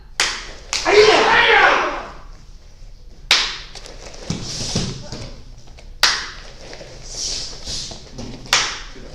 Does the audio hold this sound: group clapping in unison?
yes